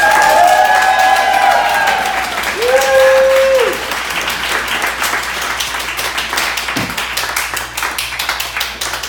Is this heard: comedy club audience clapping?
yes